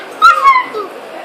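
A dog whimpers and yips in a short burst of close, high whining cries lasting under a second.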